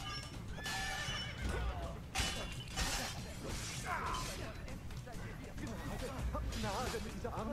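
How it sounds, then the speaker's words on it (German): A horse neighs and whinnies with clip-clopping hooves in the Renaissance-era game Assassin's Creed: Brotherhood, the calls loud and close over a busy mix of game sounds and crashes, with voices talking over parts of it. "Pferd."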